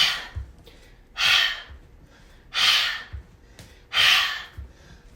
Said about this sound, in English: outward exhale through the mouth.